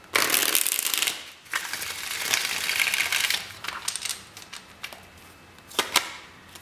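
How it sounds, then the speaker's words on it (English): Tarot cards are shuffled up close in quick, papery riffles and flutters, with brief pauses between bursts and sharp snaps of cards settling into the deck. "One more shuffle."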